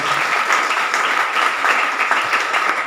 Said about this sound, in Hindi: एक बार तालियां बजा दीजिए आप।